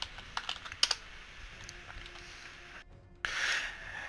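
Close, crisp clicks of someone typing a slash command on a computer keyboard while playing World of Warcraft: a quick run of keystrokes, a short pause, then a final louder key press.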